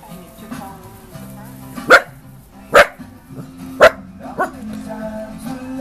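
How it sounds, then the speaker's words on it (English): A small dachshund barks sharply three or four times at an indoor dog gate at uneven intervals, close by, over a low background hum. "Why are you barking at that gate?"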